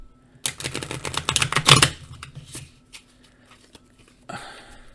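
A small deck of tarot cards being shuffled, a dense burst of riffling flutters lasting over a second, then scattered taps and a brief second shuffle near the end, close and clear.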